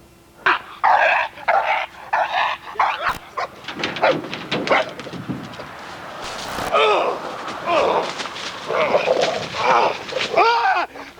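A home and business protection dog barks in repeated loud bursts during bite training, with growls and yips between barks, while handlers shout commands over it.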